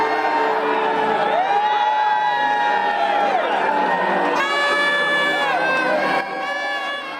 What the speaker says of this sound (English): all the people out there cheering for them